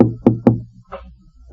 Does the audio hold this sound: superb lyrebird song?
no